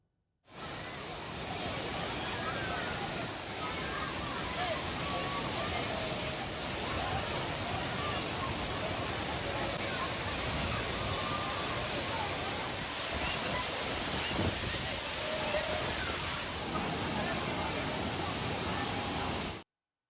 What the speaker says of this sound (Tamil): திருப்பரப்பு அருவியிலும் தண்ணீர் கொட்டுகிறது